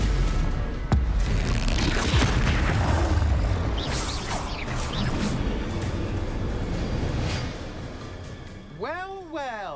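A Bombarda spell explosion in Hogwarts Legacy: a sharp blast near the start, followed by rumbling, crackling debris and scattered magical effects, with a rising whooshing sweep at the end.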